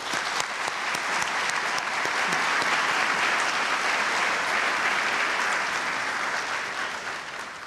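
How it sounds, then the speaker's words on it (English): Sustained audience applause at a high school graduation ceremony for Isaac Bear Early College High School, a dense steady wash of many hands clapping that holds evenly throughout and tapers slightly at the end, with no talk over it. "Please join me in thanking them with a round of applause for all their dedication"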